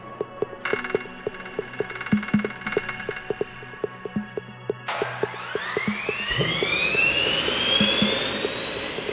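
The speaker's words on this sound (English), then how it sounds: "now you can hear the revs building up as I've started the engine" A boat engine starts up: a regular clicking and ticking, then a loud whine that rises steadily in pitch as the revs build into a sustained roar.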